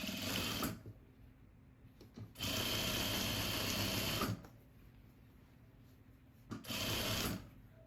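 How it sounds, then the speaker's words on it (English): A sewing machine stitches a princess seam on the back of a classic peplum cardigan in three separate runs. Each burst is a loud, steady whir up close, with quiet pauses between them and no talking. "sewing that princess line on the back"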